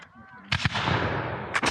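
A musket fires at a Revolutionary War reenactment, a sharp, loud report close by that decays into a long rolling echo, with another blast at the end and faint voices before the shot.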